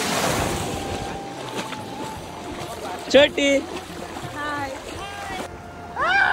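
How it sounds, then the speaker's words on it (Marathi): Rough, churning sea waves at Murdeshwar beach in Karnataka make a steady, broad wash of surf mixed with wind noise throughout, while people talk loudly nearby over it. "लाटा खवळल्या आहेत"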